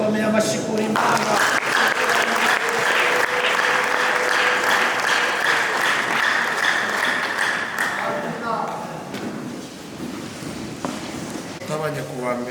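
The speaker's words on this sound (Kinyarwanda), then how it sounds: "tugukomeye amashyi kuri Imana" A church congregation claps together in loud, sustained applause for about eight seconds. Under it comes a cheer-like tone and some murmuring, and the clapping then thins out into scattered claps as voices carry on.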